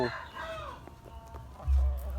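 Soft, low clucking from a sick hen with sore eyes comes through faintly against background noise, ending in a loud low thump close by.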